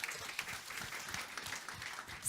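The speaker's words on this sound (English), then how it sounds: "Give them all a round of applause." Brief audience applause at a food-science panel discussion, faint and fairly steady clapping that lasts only a couple of seconds, with no speech over it.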